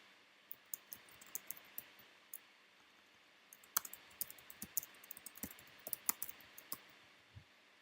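Keys on a computer keyboard click in short irregular bursts of typing, quiet and close, with brief pauses between clusters of keystrokes.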